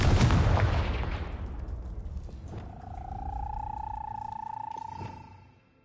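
A Confringo blasting spell explodes in Hogwarts Legacy on PS5: a loud burst that decays over a couple of seconds, then a steady ringing tone and quieter rumble carry on before cutting off.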